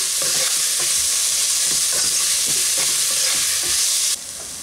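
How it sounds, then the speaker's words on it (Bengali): Radish frying in a pan with turmeric and salt, a loud continuous sizzle broken by regular scraping stirs, ending abruptly as the sizzle drops near the close. "এখন এই মূলোটাকে ভালো করে ফ্রাই করে নেব।"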